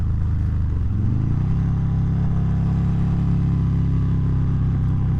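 A 2019 Harley-Davidson Fat Bob 117 Stage 3 with a Two Brothers exhaust revs up, its deep engine note climbing, then settling into a loud, steady, throbbing idle close by.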